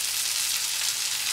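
Swedish meatballs frying in a non-stick frying pan give a steady, dense sizzle that holds evenly close up for the whole moment, with no voices.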